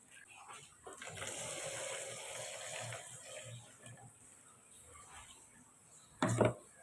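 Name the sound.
water being added to smoothie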